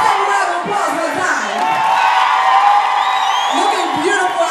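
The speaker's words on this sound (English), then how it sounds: "Give us a round of applause for the" A concert crowd in Buffalo cheers and whoops throughout, with a continuous roar of voices, shouts and scattered high yells, loud and close.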